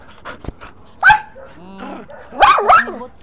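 A dog barks sharply twice, with yelping, whiny cries between, close and loud amid voices nearby.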